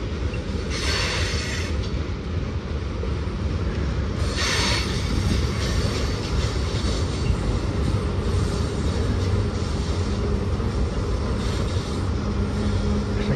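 A freight train led by an EMD locomotive, hauling tank cars of sulfuric acid, rolls through Sullivan's Curve with a loud, steady rail rumble and occasional wheel squeal that runs throughout.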